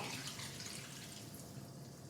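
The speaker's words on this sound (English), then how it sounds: "take your water, and you're just gonna do 1/3 cup of water and pour it in" Water, a third of a cup, pours into a pan in a steady, soft splashing stream for a couple of seconds, close and fairly quiet, with no talking.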